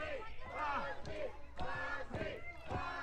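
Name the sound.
wrestling crowd chanting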